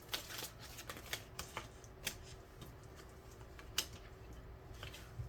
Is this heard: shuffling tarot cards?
yes